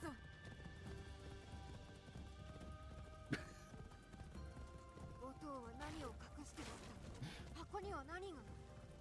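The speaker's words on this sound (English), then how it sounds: "I was not expecting the horse to become that fast." Hooves of a horse gallop fast and steadily in the video game Assassin's Creed Shadows, mixed with game sounds beneath someone talking over them.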